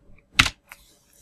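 Keys clatter on a computer keyboard in a short burst of close, crisp typing strokes, with one main cluster of taps followed by a lighter click, alone in a quiet room.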